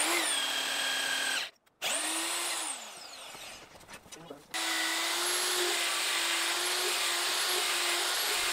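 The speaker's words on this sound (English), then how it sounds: "then we're going to drill two this way" A power drill bores into a wooden beam on a rammed-earth building site, a loud steady whine that stops briefly, sputters with a few short bursts, then runs on continuously; voices are faintly present.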